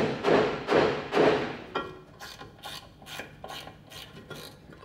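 Scraping and filing at corrosion around the anode bolt on a Johnson/Evinrude outboard prop shaft: three strong rasping strokes, then a run of lighter, quicker scrapes, close up with no talking.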